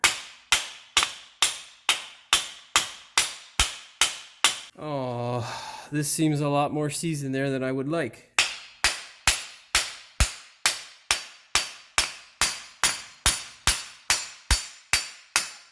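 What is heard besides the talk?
hammer smashing wheel bearing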